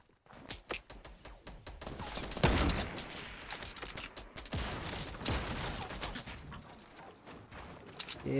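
Rapid bursts of Fortnite gunfire crackle through a busy battle, with irregular clustered shots and a heavy blast near the middle, loud and dense throughout.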